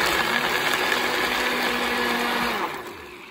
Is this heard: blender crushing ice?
yes